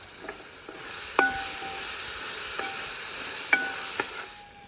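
Onions and tomatoes fry in oil for an Aluva style fish curry, a steady close sizzle with occasional sharp scraping clicks of a spoon stirring against the pan, no voices.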